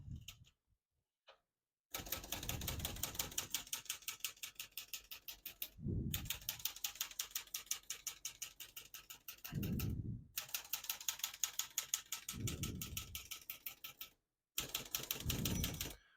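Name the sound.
typing on a manual portable typewriter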